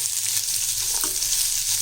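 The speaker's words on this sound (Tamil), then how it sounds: "இது நல்லா வதங்கட்டும் கொஞ்சம்" Onions sautéing in a pan for an onion masala side dish, a dense continuous sizzle at close range for a couple of seconds, with no voices.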